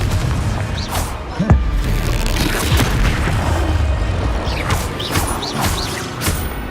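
Booming Confringo blasting-spell explosions in Hogwarts Legacy combat, repeated bursts and crashes over a dense, continuous layer of game effects, loud and close.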